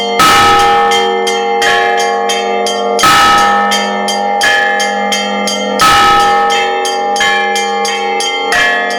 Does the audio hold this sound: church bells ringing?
yes